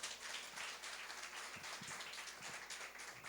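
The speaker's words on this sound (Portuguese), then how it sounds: "Aplauda o Senhor Jesus Cristo bem forte." A church congregation claps during a Holy Communion service, producing fairly quiet, steady applause with a few sharper individual claps standing out, continuing evenly throughout.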